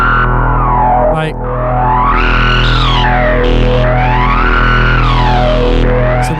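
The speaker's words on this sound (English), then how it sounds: "so what you're hearing there is double PWM" Moog Mavis synth with double pulse-width modulation run through a filter, a thick buzzing drone whose tone sweeps up and down in slow swooping arcs, loud and continuous, with a couple of short clicks and no talk.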